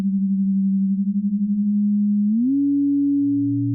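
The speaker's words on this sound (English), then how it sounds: "Let's take a pure tone again of a sine wave at 200Hz and then play the note." A pure 200 Hz sine tone plays steadily and loud, then near the end splits into two shifted tones, one higher and one lower, as sidebands move apart.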